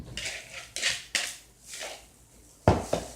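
Raw meatloaf meat being mixed in a bowl with egg and a mustard vinaigrette, a few close clinks and scrapes of a utensil against the bowl with soft squelching between.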